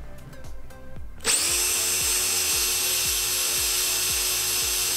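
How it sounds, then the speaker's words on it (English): A cordless electric drill set to its top speed spins a brushless motor clockwise. After a brief quiet start, it kicks in with a loud, steady, high-pitched whine that holds unbroken to the end. "I'm going to put the drill on speed 2, so it's going to spin as fast as it can, and I'm going clockwise"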